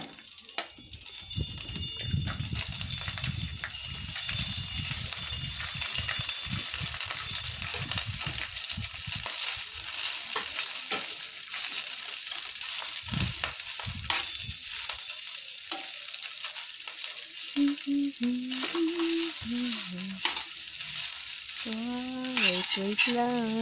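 Rice for Yang Chow fried rice sizzles and hisses in a hot pan while being stir-fried, with repeated scraping and tossing strokes; a high, steady sizzle runs throughout and some brief chirping sounds come near the end.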